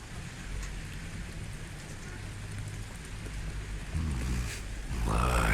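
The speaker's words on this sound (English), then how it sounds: "while the rain is most relaxing, even during the heavier downpours." Steady rain falls through a dark night, a dense even hiss of drops on surfaces that swells slightly louder toward the end, where a voice briefly speaks over it.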